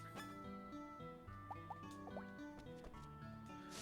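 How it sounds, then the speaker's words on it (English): Soft lapping and dripping of a farm animal drinking water in the video game Rune Factory 2, faint and low beneath steady background game music with light plinking notes. "it walked over and it started drinking some water"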